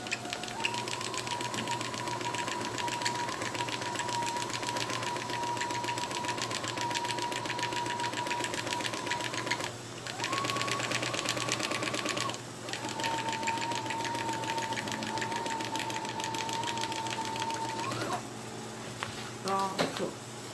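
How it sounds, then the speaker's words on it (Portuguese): A sewing machine runs steadily through fabric in long continuous bursts with brief pauses, a steady mechanical whir with someone speaking over it at times. "E vou continuar costurando."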